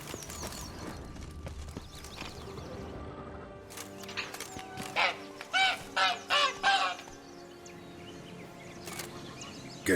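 A caged hen in The Witcher 3 gives a short run of loud, close squawking clucks in quick succession over a quiet background hum.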